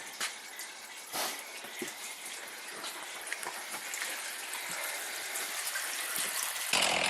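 Maple sap gushing and splashing as it pours into an evaporator pan, a steady broad watery rush that swells slightly toward the end, with no voices.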